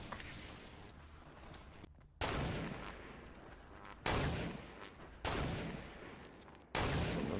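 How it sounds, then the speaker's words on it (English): Sharp, loud sniper rifle shots from a Fortnite match, four heavy reports spaced about one to two seconds apart, each ringing out and trailing off over a busy background of distant gunfire. "Someone's got a crazy sniper."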